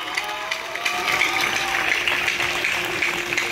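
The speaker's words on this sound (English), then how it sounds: "give our principal, Mrs. Maxine Evans, a very big round of applause" A graduation audience at a high school ceremony applauds the principal with a steady, moderately loud wash of clapping, and some faint voices and cheering mixed underneath.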